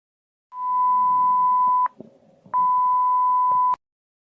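Two long steady emergency alert tones, each lasting over a second and broken by a brief gap, sound loud and clear from a phone broadcasting a government alert in India.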